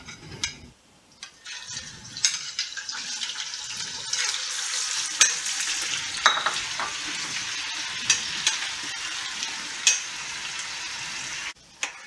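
Spare ribs deep-fry in a wok of very hot oil, a loud continuous sizzling hiss with sharp crackling pops throughout, ending abruptly.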